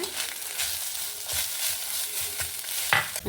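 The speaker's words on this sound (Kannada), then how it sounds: "ಈಗ ನಾವು ಅದಕ್ಕೆ ಈ ತೆಂಗಿನಕಾಯಿ ಸಹ ಹಾಕೊಂಡು ಬಿಡುವ ಫ್ರೆಂಡ್ಸ್ ಸರಿ ರೋಸ್ಟ್ ಮಾಡ್ಕೊಂಡ್ಬಿಡುವ" Coconut and chana dal dry-roasting in a pan for temple-style coconut chutney, a close, steady sizzle broken by repeated scraping stirs of a spatula and a sharp clink near the end.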